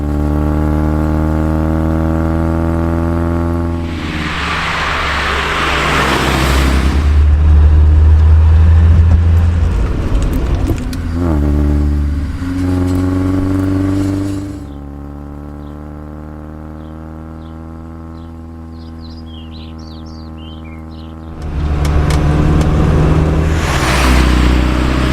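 A modified vintage car with a small performance engine drives along, its harmonic engine note rising and falling through several revs and gear changes, with rushing wind bursts and a loud, close, steady drone.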